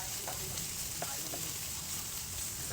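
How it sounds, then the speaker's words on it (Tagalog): Garlic and carrots sauté in a pan, giving a steady, close sizzle and crackle with a few faint utensil clicks and stirring sounds throughout. "Gigisayin lang po siya. Hanggang makulay brown yung bawang."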